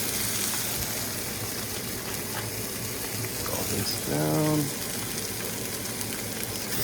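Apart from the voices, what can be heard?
chicken thighs sizzling skin down in pan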